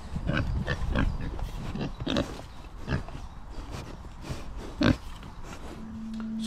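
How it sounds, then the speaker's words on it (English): Pigs in a farm pen grunt and snort in a steady series of rough, close bursts, with one louder snort standing out near the end over a constant barn background. "So here's another pen of pigs"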